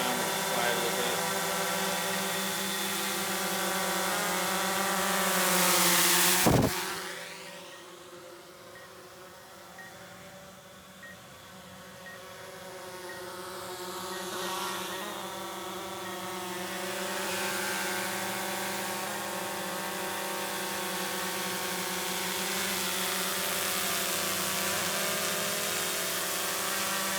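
A DJI Mavic Air 2 drone fitted with Master Airscrew propellers hovers, its motors and props giving a steady buzzing whine whose pitch dips and rises as it manoeuvres, with a sharp burst as it passes close.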